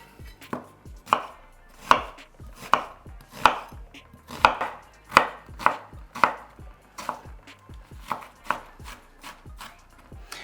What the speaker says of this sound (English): So I'm just gonna move this aside and chop this onion.